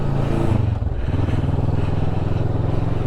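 A Kawasaki Vulcan 650S motorcycle being ridden, its engine droning steadily and loudly with a brief shift in pitch near the start, mixed with wind rush.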